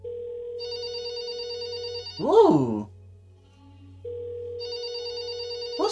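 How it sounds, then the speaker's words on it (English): A telephone rings in the video game There Is No Game: Wrong Dimension, a loud repeating electronic ring that stops while a voice gives a short exclamation, then starts ringing again. "Whose phone is this, though?"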